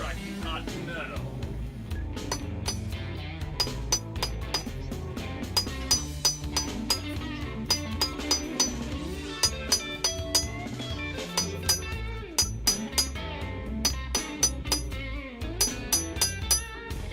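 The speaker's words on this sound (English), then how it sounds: "Striking hot metal." Hammer blows ringing on hot steel over an anvil while forging a straight razor, sharp metallic clinks in irregular bursts and quick runs, heard over a continuous loud background of music or noise.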